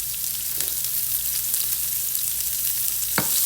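Onions fry in a pan on a stove with a loud, steady, close hiss and crackle, plus one brief knock near the end.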